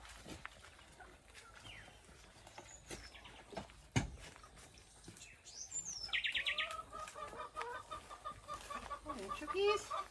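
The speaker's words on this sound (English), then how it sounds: "Chickies." Backyard chickens chirp and cluck in a close flock, with scattered short calls and a rising run of clucks toward the end over light outdoor noise.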